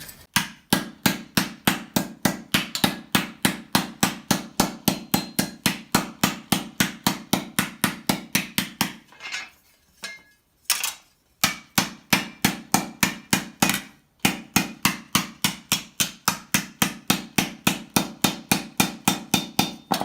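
Fast, relentless hammering on a sheet-metal armor plate for a pauldron, sharp ringing strikes close by, with a short break midway before the pounding resumes.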